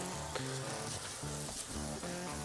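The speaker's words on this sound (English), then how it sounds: "We're just gonna toast these up really quickly on the grill." Butter sizzles faintly and steadily as buns toast on a Blackstone griddle, a soft, continuous frying hiss under quiet background music.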